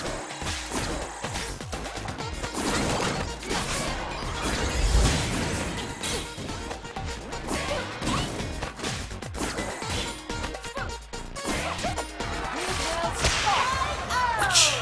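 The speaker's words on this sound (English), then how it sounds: "I like the whip sound." Whip attacks crack and snap in the ARMS fighting video game amid dense, continuous game music and clashing hit effects, loud and busy throughout with repeated sharp strikes.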